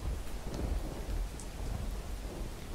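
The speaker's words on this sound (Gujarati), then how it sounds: "વરસાદી ઝાપટા પડ્યા છે" An afternoon rain shower falls in Botad, Gujarat, after a hot, humid day, a dense, steady patter of rain that fills the scene evenly from start to finish.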